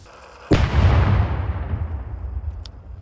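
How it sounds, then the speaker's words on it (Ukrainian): A single deep explosion booms suddenly from a controlled detonation of explosive ordnance in Sviatohirsk, Donetsk region, then a long rumbling roar and echo slowly fade, with a faint crack near the end. "підготувати розрахунок для проведення знищення ВНП"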